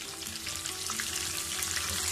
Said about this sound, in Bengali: এখন আমি এগুলাকে ভেজে নিব।